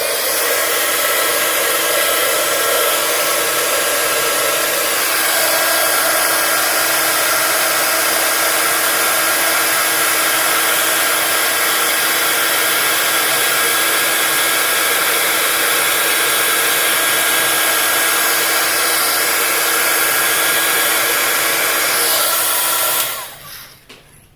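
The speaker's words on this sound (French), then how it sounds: "Mon pistolet chauffant." A heat gun blows a loud, steady roaring whoosh for over twenty seconds while heat-embossing a stamped butterfly, then cuts off abruptly at the end.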